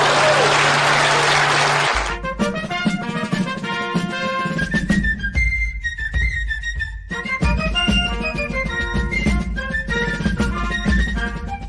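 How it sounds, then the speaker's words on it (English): A studio audience claps in a dense, steady burst for about two seconds before music takes over, with no applause heard after that. "Please clap."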